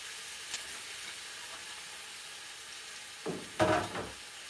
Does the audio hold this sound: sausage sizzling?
yes